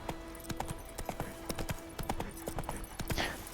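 Roach, Geralt's horse in The Witcher video game, trots with steady clip-clopping hoofbeats, close and moderately loud, with a low steady hum of game ambience beneath.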